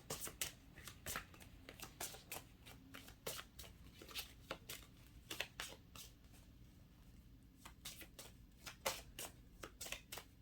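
Tarot cards are shuffled and drawn in a steady run of crisp riffling bursts and soft slaps, close and quiet, with no talking.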